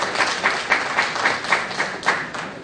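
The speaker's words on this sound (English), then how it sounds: "You can applaud on that." An audience claps at the SALDEF Langar on the Hill gathering in Washington, the applause steady with regular, almost rhythmic swells, fairly close and with no talking over it.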